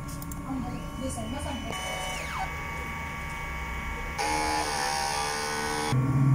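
A DTF printer runs a print head cleaning cycle, with buzzing motor whirs, rising and falling mechanical sweeps and a louder steady hum near the end, heard close by with some voice in the background.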